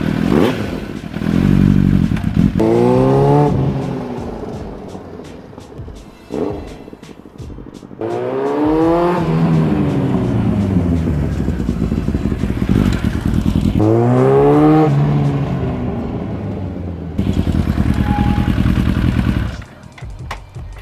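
A Kawasaki motorcycle is ridden after brake work, its engine rising and falling through several loud revving passes with gear changes and steady road noise, close to the rider and with no talking.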